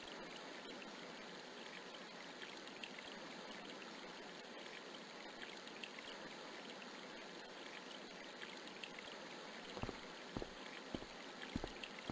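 Water running steadily from a garden hose on a lawn beside a shed in the video game Broken Sword, a faint continuous hiss and trickle, with a few soft knocks near the end and no speech.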